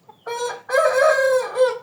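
A rooster of a Japanese breed raised in Uzbekistan crows up close, a loud strained call in two bursts after a short cluck, with no talk over it.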